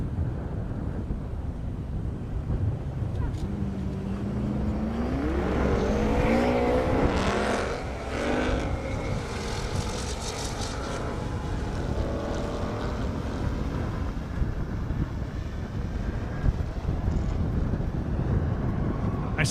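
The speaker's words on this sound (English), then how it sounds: "those McLarens sound almost alien when they go down the track" McLaren cars race down an airstrip drag track at an airport drag racing event, a rising engine whine building as a car passes mid-way, with wind and distant crowd ambience around it.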